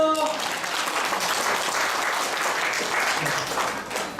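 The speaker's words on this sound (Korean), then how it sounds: "여러분 박수 부탁드립니다" At a Seoul photographers' night and photo awards ceremony, a hall audience breaks into loud, continuous applause, a thick crackling roar of many hands clapping together that holds steady throughout.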